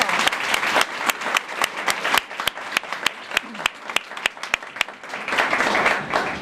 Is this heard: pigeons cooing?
no